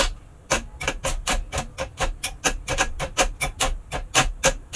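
A PS4 console fan scrapes against an internal part, giving rapid, regular clicking ticks at a steady rhythm. The ticks are loud and close, and there is no talking.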